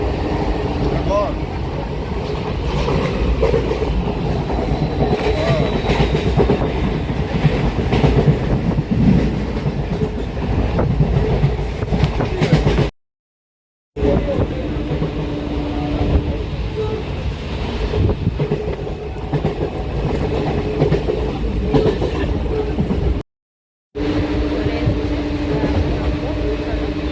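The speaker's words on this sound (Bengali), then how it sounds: "এত ভালো যাচ্ছে ট্রেনটা" A passenger train runs along the rails with a loud, steady rumble and rhythmic clickety-clack from the carriage wheels, heard from onboard, with two brief moments of silence.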